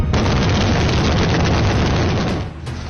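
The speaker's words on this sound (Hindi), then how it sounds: "रात के अंधेरे में चीन की सेना की आतिशबाजी है।" Loud, continuous blast-like roar from Chinese army war drill explosions at night in Tibet, a dense sustained rumble with overlapping bursts that eases slightly near the end, with no voices.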